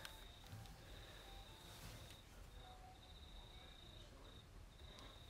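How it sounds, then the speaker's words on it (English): Crickets chirp outside at night in a steady, faint high-pitched trill that continues throughout over a low background rumble, with no talking. "Can you hear crickets outside?"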